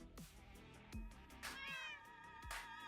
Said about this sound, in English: Oh, and the occasional kitty cats.